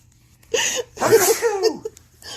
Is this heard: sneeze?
yes